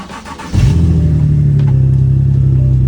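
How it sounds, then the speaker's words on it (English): A Nissan 370Z engine cranks and catches, settling into a loud, steady idle rumble right after ignition, with faint clicks and shuffling beforehand. "And so if we start the car up,"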